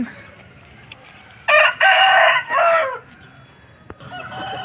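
An Aseel rooster at a Vijayawada poultry market lets out a single loud, close crow lasting about a second and a half, rising over a low murmur of market background noise.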